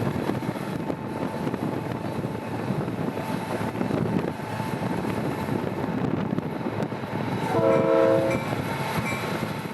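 A Florida East Coast Railway train rolls past at about 50 mph with a continuous rumbling roar, and a short horn blast rings out near the end, heard from moving road traffic alongside.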